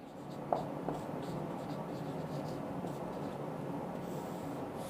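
Writing out a straight-line equation in a Class 11 maths lesson gives quiet, soft scratching strokes with a couple of faint taps near the start, set against a low, steady background hiss.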